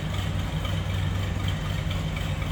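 The engine of a 1935 Chevrolet Standard Sedan idles steadily with a low, even rumble and slight knock, loud and close, no voices.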